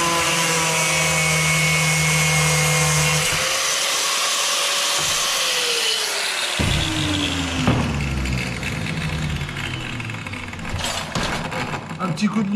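Drilling and reaming the throttle bore of a Solex moped carburettor with a power tool, a loud steady whine that drops and sags in pitch midway, then rougher grinding and scraping of metal, close up.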